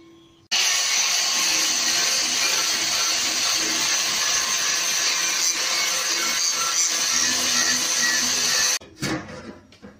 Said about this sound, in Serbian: Dobro, sad ćemo da šmirglamo.